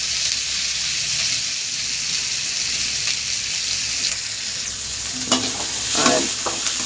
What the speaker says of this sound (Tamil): அடுத்து ஆனியன் போடுவோம். ஆனியன் போட்டு நல்லா கொஞ்சம் செவக்கட்டும்.